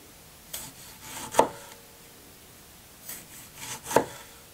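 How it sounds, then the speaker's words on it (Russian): Two slicing passes of a knife cutting a tomato into rounds, each a brief drawn scrape ending in a sharp tap on the board, close and quiet with no talking. "Помидору нарезаю кружочками."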